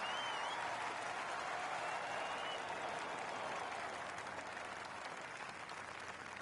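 A virtual gallery applauds after a bold eagle attempt at the Deutsche Bank Championship in a PS4 golf game: sustained, dense clapping from a crowd at a fair distance, fading slightly toward the end.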